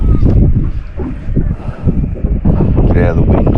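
Gusty wind rushes and buffets around a small fishing boat anchored off Victoria while snapper fishing, a steady low roar rising and falling, with someone talking over it.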